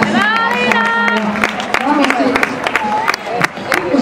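A crowd at a running race cheers and claps steadily on the final lap, loud and close, under an announcer's voice that carries over the noise.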